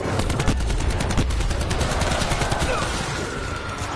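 Death Machine minigun from Call of Duty Black Ops 4 Zombies firing a continuous rapid stream of loud rounds for several seconds, the bursts tapering slightly near the end amid dense game noise.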